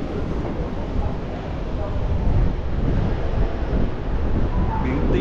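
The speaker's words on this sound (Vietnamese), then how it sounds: "Thử ra coi, ui, lạnh gió luôn." Strong, cold wind buffets the microphone at Tuy Hoa beach in Vietnam, a steady loud rumbling roar with a surf-like wash running through the whole stretch and no clear talk.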